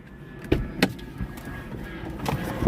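A car door in a large Bronx parking area, with a few sharp knocks and clunks as someone climbs out, set against a low background rumble.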